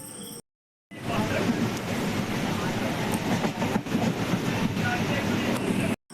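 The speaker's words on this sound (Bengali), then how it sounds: "তো চলো, ট্রেন চলে এসেছে" A train pulls into a station with a loud, steady rumble and rattle of wagons that fills most of the stretch, after a brief silent gap at the start.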